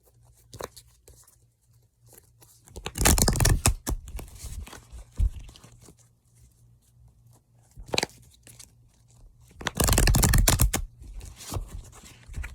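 Two bursts of rapid riffling, cards being shuffled, close and fairly loud, separated by quieter rustling and handling noises.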